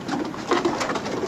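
Army Signal Corps pigeons cooing close by, soft throaty coos repeating over a short stretch with no talk.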